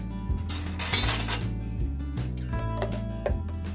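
Metal utensils clink and tap against a dish while pasta is served with sauce and vegetables, giving several separate close knocks over a low steady hum.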